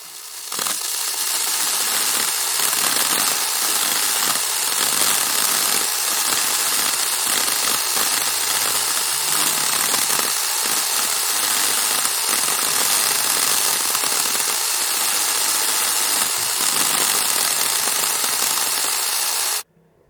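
Chainsaw cutting into an old beech tree, a loud, steady broadband roar that runs nearly unbroken for about twenty seconds before stopping abruptly.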